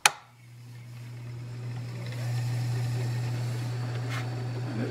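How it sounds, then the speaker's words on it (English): On a rotary tremolo cabinet, the larger high-speed motor spins the drum, producing a steady low electrical hum that starts after a click and holds at a moderate level, with a faint whirring wash above it. "we'll switch it to the high speed, which is the larger motor in the back."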